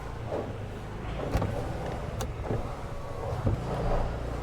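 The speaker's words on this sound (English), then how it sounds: "check all the windows are working fine" Electric power windows of a used car whirring as they move, a muffled motor drone heard from inside the car with a few small clicks and thumps, no talk.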